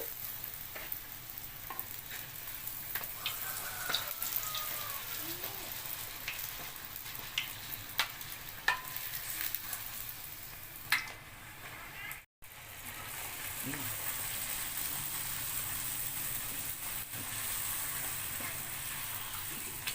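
A puri deep-fries in hot oil, with oil spooned over it so it puffs. A low, fairly quiet sizzle runs throughout, broken by clicks of the spoon and a brief dropout midway, with some faint speech.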